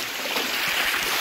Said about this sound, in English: I doubt you can hear anything over the sound of the water.